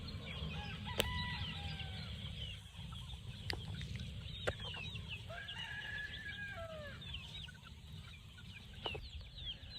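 Chickens and young chicks on a farm yard with fresh grass after rain, soft clucks and high peeping calls scattered throughout, a few sharper cries standing out over a low steady background.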